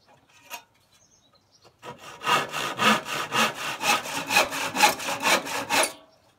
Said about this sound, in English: So Now I'm going to cut out a couple of triangles to reinforce the top of these A-frames.